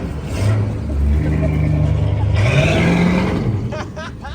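A car engine with a suspected converter or flex plate fault revs and rises in pitch, running loud and steady at close range throughout, with a voice briefly over the engine toward the end.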